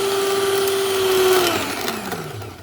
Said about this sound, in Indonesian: matikan dulu mixer